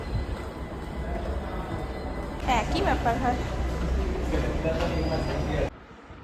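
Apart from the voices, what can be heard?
metro train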